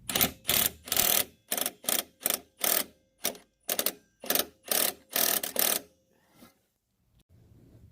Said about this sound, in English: use my impact wrench on the other side and just get it out